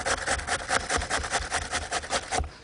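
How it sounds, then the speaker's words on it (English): Coarse side of a hand grater shredding a fresh cucumber, a quick run of about a dozen rhythmic rasping strokes, close and fairly loud, with no talking. "Get a cucumber and grate it. And on the coarse side of the grater."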